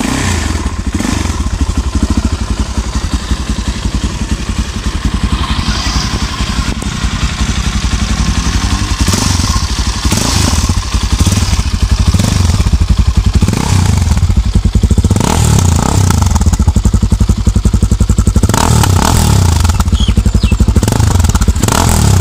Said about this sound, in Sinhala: මේ බයික් එක එක්සෝස් සිස්ටම් එක සහ එක්සෝස් නෝට් එක මොනවාගේද කියලාත් බලමු